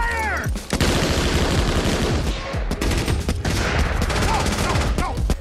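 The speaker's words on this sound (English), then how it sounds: "Soldiers in real life do suppressing fire." Airsoft AEG guns laying down suppressing fire, a loud, dense fusillade of rapid overlapping shots and bursts running without pause from start to finish, with shouting voices mixed in.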